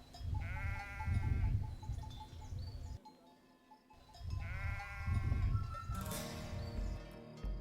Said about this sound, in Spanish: Los rebaños de ovejas y sus pastores.